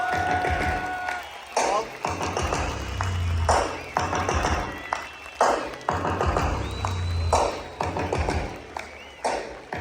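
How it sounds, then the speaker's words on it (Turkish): Crowd applause at a university graduation ceremony at Yıldız Teknik Üniversitesi, with bursts of clapping rising and falling in waves while an amplified voice talks between them. "alkışlarla biraz gürültü yapalım"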